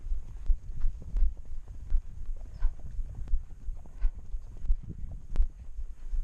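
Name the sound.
horse trotting, hooves clip-clopping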